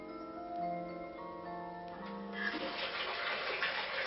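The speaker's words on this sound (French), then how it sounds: "sans quitter son lit, on fait couler son bain." Water starting to run into a bathtub, a soft steady gush of tap water that swells after a few seconds, preceded by faint tonal electronic hum and music-like tones.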